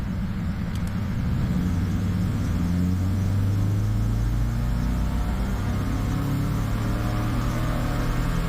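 A Subaru Crosstrek with a swapped FB25 engine and CVT pulls in simulated second gear, giving a steady low engine drone and rumble that builds slightly, heard from inside the car with no talking.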